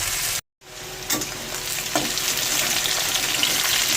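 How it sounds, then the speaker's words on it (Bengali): Potatoes and onion fry hard in a pan, a loud, continuous close sizzle with stirring scrapes. It cuts out briefly near the start, then returns and stays dense to the end. "এবার আলুটাকে ভালো করে লাল করবো"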